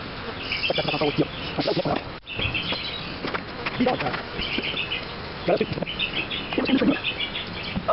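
Dense, continuous buzzing of many bees close by, with some rustling and handling noises throughout and no clear talk.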